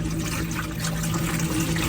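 Water pours steadily from a solar shower bag at a French campervan aire, a continuous close splashing stream with a faint hum beneath it.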